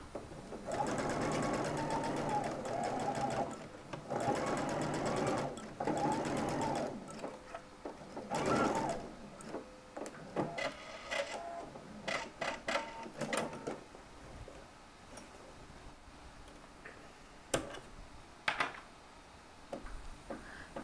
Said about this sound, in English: Sew around the neckline just shy of 5/8 of an inch